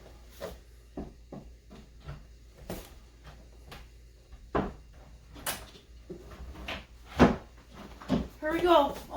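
Four workbench drawers are slid and fitted into place, giving a series of close wooden knocks, thumps and sliding bumps, with a person speaking quietly in between.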